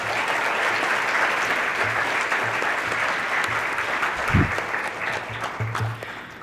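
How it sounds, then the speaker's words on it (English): Sustained, fairly loud applause from a crowd of parents, staff and graduates fills a school graduation ceremony hall at DIS for the IB Class of 2022, steady dense clapping throughout with a brief low thump midway. "May I please have a warm round of applause for all members of management, staff, and certainly all parents integral to our time here at DIS."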